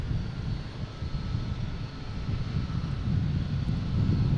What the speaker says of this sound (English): we got a JetBlue coming in from Cancun